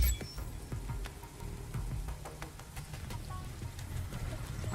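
Steady rain falls across an alien landscape in the sci-fi base-building game The Riftbreaker, a continuous pattering wash with scattered faint drips and ticks, heard alone without speech.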